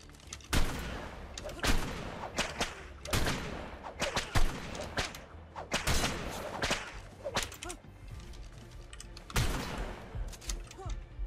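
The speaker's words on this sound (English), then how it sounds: "Bro has another shotgun." Shotgun fire in the game Ark during PvP combat: a rapid series of sharp, loud blasts at irregular intervals, some close and booming, mixed with scattered impacts and occasional talk.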